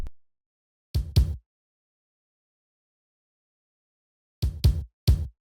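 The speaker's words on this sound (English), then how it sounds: "This kick just adds like a cool texture to like the drum bounce." A punchy kick drum sample from the LMG Rock Essentials kit hits alone in a sparse pattern: two quick strikes, a long silence, then three more, each loud, close and dry with a short tail.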